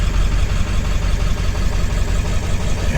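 A 7.3 diesel engine in a big red truck idles steadily and smoothly, a loud, close, continuous low rumble with an even throb and no breaks or revs.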